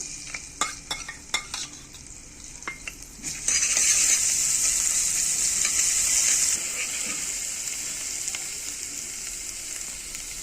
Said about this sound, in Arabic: خلاص معلقتين الزيت سخنوا، وهحط التوم بقى